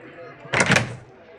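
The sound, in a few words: door closing in the video game Gene Gorge 2 Infestation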